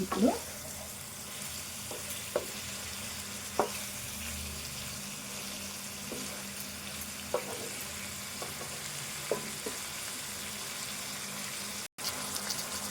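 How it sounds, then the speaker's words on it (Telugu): Spices for a brinjal chicken curry fry in a pan, a faint, steady sizzle with occasional light clicks of stirring and one brief dropout near the end. "ఇదంతా బాగా వేగాలి. మంచిగా ఫ్రై కావాలి."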